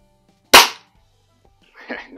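A Benjamin Trail NP nitro piston break-barrel .177 air pistol fires once with a sharp, close crack that decays quickly, followed by a softer, brief clatter or impact a moment later.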